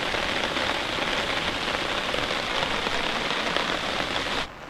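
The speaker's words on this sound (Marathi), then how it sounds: "आज बघा पाऊस आहे ना एकदम जोरदार बॅटिंग करतो, म्हणजे मुसळधार पाऊस आहे." Heavy monsoon downpour on a village farm pours steadily onto the ground and surfaces, a dense unbroken hiss of rain close by that cuts off abruptly near the end.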